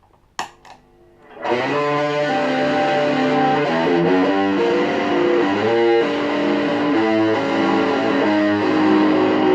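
An electric guitar through a vacuum-tube distortion pedal plays sustained chords with thick saturated crunch, loud and continuous after a brief pick scrape at the start.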